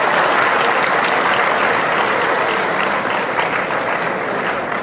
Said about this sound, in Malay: Encik Ahmad Kamal, berikan satu tepukan yang gemuruh kepada beliau